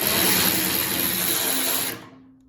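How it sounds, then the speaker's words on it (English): A 10 mm socket on a 4-inch extension spins against a bolt on a John Deere lawn tractor, making a close, steady mechanical whir for about two seconds before cutting off. "this is a 10 millimeter socket with a 4-inch extension"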